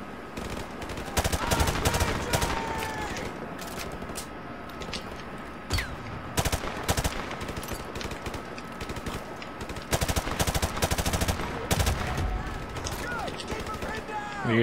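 Bursts of automatic gunfire in Modern Warfare Remastered, a first-person shooter, shooting through a wall, repeated sharp volleys running across the whole stretch over steady game ambience.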